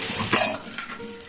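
Chowmein being stir-fried on high flame, a brief loud sizzle with a spatula scraping and tossing the noodles in the pan, no talk.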